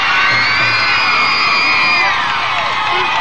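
A crowd at a 1999 men's modeling show on Mejanga TV whoops, yells and cheers loudly and continuously for a male model, forming a dense, steady roar of voices throughout.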